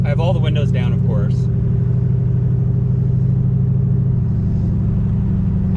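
A car with a loud modified exhaust rumbles with a steady low drone while driving with the windows down, and someone talks briefly over it at the start.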